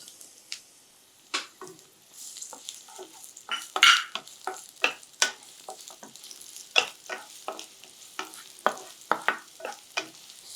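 Garlic, then small onions, being sautéed and stirred in a pan, with scattered sharp scraping and sizzling bursts at an irregular pace, close and alone without talk.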